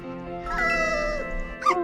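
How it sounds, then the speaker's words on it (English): Pinky, a pet cat in the farming game My Time at Portia, lets out a drawn-out wavering meow followed by a shorter sharp mew, close and fairly loud over quiet game background. "Some days I don't mind Pinky meowing in my ear"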